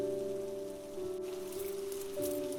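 Rain patters steadily across a surface outside a store in the evening, a soft continuous hiss underneath a sustained tonal music bed that shifts pitch partway through.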